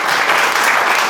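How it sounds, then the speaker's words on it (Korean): Steady, dense applause fills a lecture hall as the audience at a Korean talk on investing and the future claps together, loud and continuous throughout the short burst. "박수 한번 쳐주세요."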